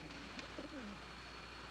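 Unseen bird, dove-like, giving a soft, faint cooing call against a constant background hiss.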